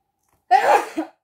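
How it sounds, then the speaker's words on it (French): One person sneezes once, close and loud, a sharp burst that trails off with a small second catch of breath, then silence. "J'éternue encore."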